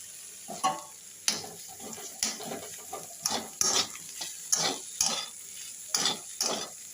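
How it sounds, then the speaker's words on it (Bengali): Ginger and spices stir-fry in oil in a pan for a seeded green banana dish, a soft sizzle under repeated close scraping strokes of a spatula at an uneven rhythm. "ভালো করে এটাকে কষিয়ে নেব"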